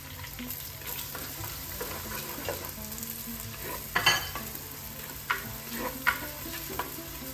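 About ten finely chopped small sambar onions (shallots) frying in hot oil for a Kerala fish curry, a steady close sizzle with occasional louder scrapes and clinks of stirring.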